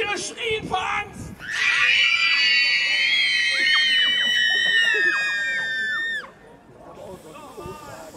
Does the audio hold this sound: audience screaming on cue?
yes